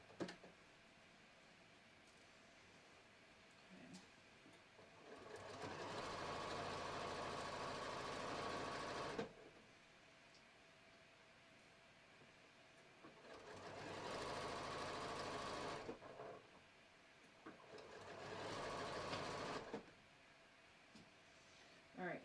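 A home sewing machine stitches a short fabric sleeve in three sustained runs of steady mechanical whirring, separated by quieter pauses with faint handling noise.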